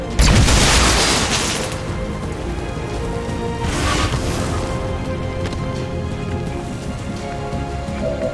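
A grenade goes off in XCOM 2 with a loud, close boom. A crackling debris wash trails after it and fades into steady rumbling noise.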